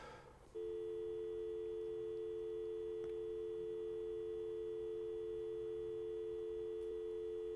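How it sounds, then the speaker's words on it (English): A telephone line on a call-in radio show gives off a continuous dial-type tone. It starts abruptly just after the opening and holds steady and loud, with no breaks, until the end. "Oh, I hear it. Dial tone."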